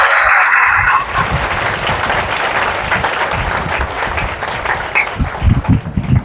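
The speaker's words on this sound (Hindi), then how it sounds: "तो ताली तो बजाओ अपने लिए।" A church congregation at a sermon bursts into loud applause, then keeps up a steady, fairly close clapping throughout, with a few heavier thumps near the end.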